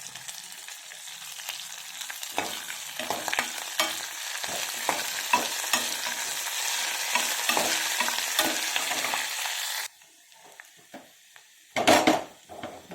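Dried red chillies, curry leaves, garlic, cumin and mustard seeds fry in hot oil as a tempering for Andhra mixed vegetable sambar, giving a steady close crackling sizzle with spoon stirs and pan clinks, then dropping off sharply near the end before a brief loud burst.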